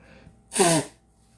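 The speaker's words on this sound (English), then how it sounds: "I'm about to sneeze." A single loud, close sneeze bursts out of near silence, lasting under half a second.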